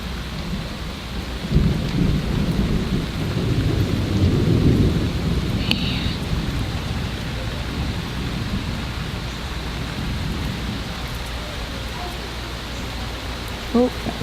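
A severe thunderstorm pours steady heavy rain while a long low roll of thunder rumbles and swells early on, then fades under the continuing downpour; a couple of faint knocks come near the end.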